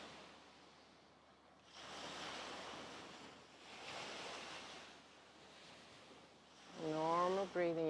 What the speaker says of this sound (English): I'm in beautiful Voma Island in Fiji, so I'm hearing beautiful waves, very soothing